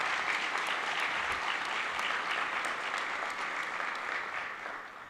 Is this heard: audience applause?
yes